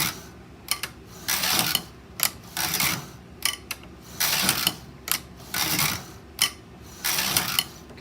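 An SK 151 knitting machine knits I-cord, its carriage sliding back and forth in repeated mechanical clattering passes with clicks between them, close and fairly loud in a steady rhythm.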